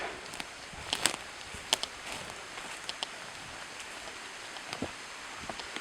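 Light rain patters softly and steadily outdoors by a fjord in Norway, with scattered faint drips and ticks over a low background hiss.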